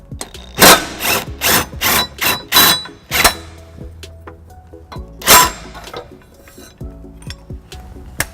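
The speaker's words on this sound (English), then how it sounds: "next I'll be using the cordless impact with a 6-inch extension and 11 millimeter" A cordless impact wrench with a 6-inch extension and 11 mm socket removes the tow hook from a 2017 Toyota Highlander, firing several short, sharp hammering bursts close up, followed by quieter metallic clinks and handling noises.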